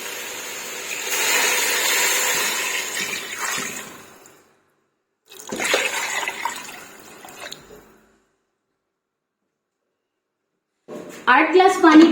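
Eight glasses of water splash and pour into a pressure cooker for hareesa in two bursts separated by a pause, followed by a brief clatter at the end.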